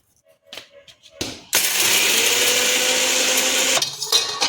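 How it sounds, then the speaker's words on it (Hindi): A few faint clicks and handling noises, then a mixer grinder grinding spices roars to life, whirring loudly and steadily before spinning down. "इसको मिक्सर जार में डाल के इसको पीस लेंगे।"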